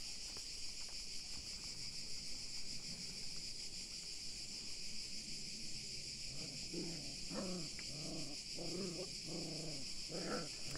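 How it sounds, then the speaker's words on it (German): Puppies play under a chair, letting out a run of soft, close growls and little grumbling yaps that grow busier toward the end over a constant high chorus of crickets. "Das Geknurre hier sind meine Welpen, die unter meinem Stuhl spielen"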